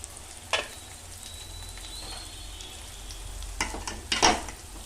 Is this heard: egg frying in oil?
yes